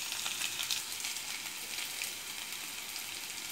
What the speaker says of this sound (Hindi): अब मैं इसे थोड़ी देर फ्राई कर लूँगी